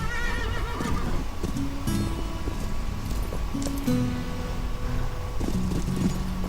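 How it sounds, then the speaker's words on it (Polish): Flying horse in the Call of Juarez 2 video game neighing loudly with a clear, prominent whinny over a busy game soundtrack, with hoof clip-clops mixed into the steady background. "Tak, to jest latający koń, bez wątpienia."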